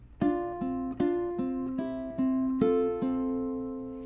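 Ukulele plucking the melody of Ode to Joy, single clear notes picked one at a time in a slow steady rhythm, close and gentle, alone with no talking.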